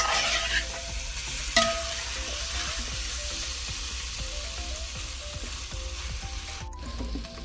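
Venison pieces sizzle steadily as they fry in a pan, with repeated scraping stir strokes of a spatula close by and no voices.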